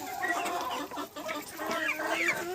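Several chickens, including Cochin hens, cluck and chatter close by, with short calls from young roosters mixed in, in an irregular stream of overlapping sounds.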